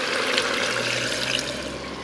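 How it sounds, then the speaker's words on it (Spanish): Water poured into a pressure cooker pot holding hen meat, a continuous splashing, gurgling stream that stays fairly loud and steady for the whole stretch with no talking. "Ahora voy a proceder a echarle un poquito de agua."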